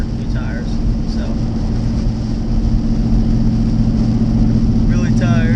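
A 2018 GT car cruises along I-95 in the rain on worn Pilot Pro Sports tires, a steady loud drone of engine and road noise with wet tire hiss throughout, and a voice speaking over it.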